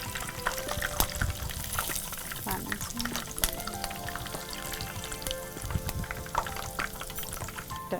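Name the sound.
chicken potato balls frying in hot oil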